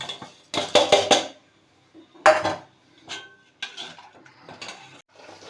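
Rice tipped into a pot of boiled milk for nolen gur payesh: a run of sharp metallic clanks and scrapes from a spoon on the pot, loud bursts with short quiet gaps between them, no voices.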